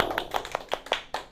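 In a high-school chemistry classroom, about seven quick, crisp handclaps ring out close by in an even rhythm, as a brief burst of applause for a right answer.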